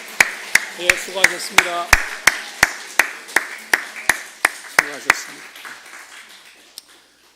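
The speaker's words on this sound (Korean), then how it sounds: "박수 쳐주시길 바랍니다" Church congregation claps in a steady, even beat to thank church workers, about fifteen sharp claps that gradually fade away, while a voice speaks over the first part.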